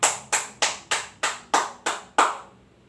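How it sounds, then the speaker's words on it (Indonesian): Eight distinct hand claps in a classroom, evenly spaced about a third of a second apart, close and crisp, with the last clap leaving a short fading ring; no talking. "tepuk tangan semuanya"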